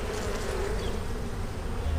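Honey bees buzz around an open hive colony during a winter inspection, a dense, steady, close swarm drone that stays constant throughout the short stretch.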